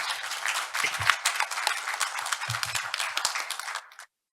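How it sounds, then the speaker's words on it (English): An audience at a panel discussion of a global symposium applauds, a moderate patter of clapping hands that runs steadily for about four seconds and then cuts off abruptly. "why don't give them a big round of applause"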